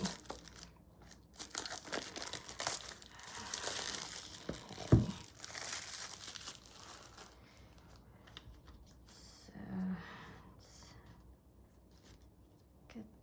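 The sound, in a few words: paper guide of a tarot deck being handled during unboxing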